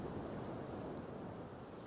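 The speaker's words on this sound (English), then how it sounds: "there's a good amount of surf out there" Night-time sea surf on a winter beach at Bournemouth, a steady broadband roar of waves washing in, fairly distant and unbroken, with no voices.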